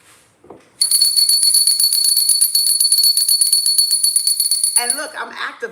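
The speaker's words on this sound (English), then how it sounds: "And look, I'm activating it with the bell too." A small bell is rung over a quartz crystal grid, giving a bright sustained ringing tone that stays loud for several seconds and slowly decays, then a voice starts speaking as it fades.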